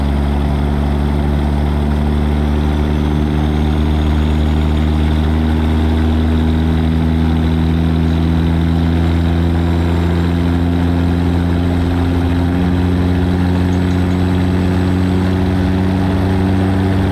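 A loud, constant low engine rumble of an idling truck in American Truck Simulator, steady and droning throughout with no other sounds rising above it.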